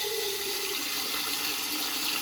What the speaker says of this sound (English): So let's get some water flowing here.